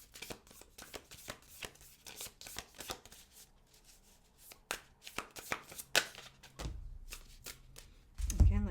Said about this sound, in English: A full drop of cards.